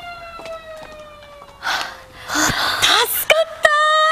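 A police car siren wails in a Japanese school-gang drama scene, rising and falling over rough scuffling and ambient noise, with bursts of louder commotion partway through.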